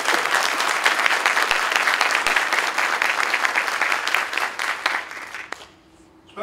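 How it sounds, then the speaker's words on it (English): A crowd at a Quartermaster Corps graduation ceremony at Fort Lee, Virginia, claps for the graduating classes in steady, dense applause that tapers off and stops near the end. "please join me in a round of applause as we welcome the graduating classes"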